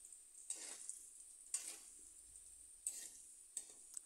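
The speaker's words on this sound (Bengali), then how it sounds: "এই মাছ রান্না করতে হলে আলু আগে ভেজে নিতে হয়" Potatoes fry quietly in a pan for a fish dish, giving a faint sizzle. A few separate bursts of scraping or stirring come at irregular intervals, close but soft.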